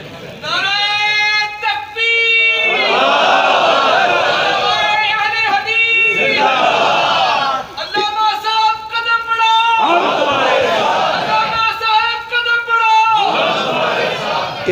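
A large crowd at a Khatam-e-Nabuwat religious conference in Gujrat chants a slogan in loud unison. The voices rise in long sustained bursts, break off briefly, then surge back several times.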